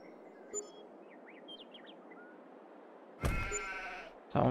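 Sheep bleat in the Farming Simulator 22 video game, with faint chirping bird calls in the background and two louder, close bleats near the end.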